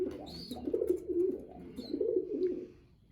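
Breeding pigeons or doves cooing close by, several soft low coos in succession with a couple of faint higher squeaks mixed in, no talk.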